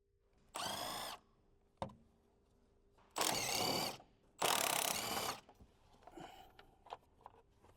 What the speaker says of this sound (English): Use a 13mm socket with the extension to remove the 3 battery tray mounting bolts